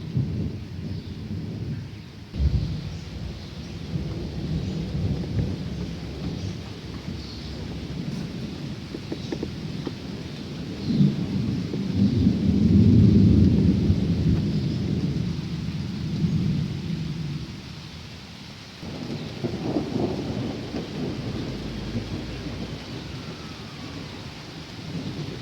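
Thunder rumbles low and heavy through a dark morning thunderstorm, with a louder swelling roll near the middle, while steady rain patters on surfaces throughout.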